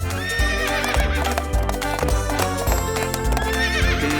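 A horse whinnies over steady clip-clopping hooves, the sound full and continuous, likely from a toy or ride at a child's princess castle playhouse, with no talk over it.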